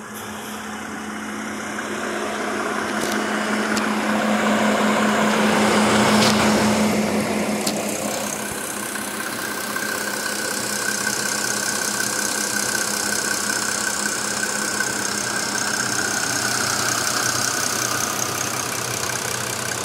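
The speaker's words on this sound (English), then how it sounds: "Very smooth, quiet running engine with lots of torque." A 1993 Mercedes W140 300SD turbo diesel idles steadily and evenly, with a low constant hum and a light mechanical clatter throughout, close by with no talking.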